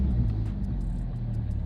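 Porsche GT4 RS sports cars in Miami rolling slowly into position, giving a steady low engine rumble with faint higher ticks above it, close by and continuous, with no talking.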